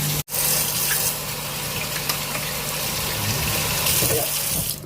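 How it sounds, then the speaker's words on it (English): A kitchen tap runs while someone washes their hands, a steady gushing splash of water that stays loud and even, starting after a brief click and continuing without pause. "What we gotta do, we gotta wash my hands first."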